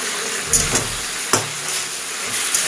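Food fries in a pan with a steady hiss, marked by a few soft clicks and taps, with no voices.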